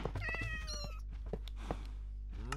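Cat meows in a blocky sandbox video game, several short rising and falling mews in quick succession over a steady low background hum, fairly close and clear.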